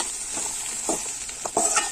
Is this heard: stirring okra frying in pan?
yes